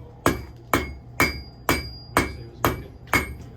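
Steady hammer blows ring out as a blacksmith forges an iron nail, about eight sharp strikes at an even pace, each with a bright metallic clang that rings briefly before the next.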